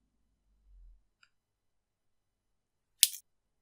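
Wire cutters snip off the excess wire on a wire-wrapped pendant: a single sharp, close snip in near silence, after a faint low thump.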